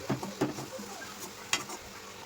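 Bread pieces being stirred gently into milk in a pan for double ka meetha, giving a few soft spoon scrapes and light wet stirring knocks against a quiet kitchen background.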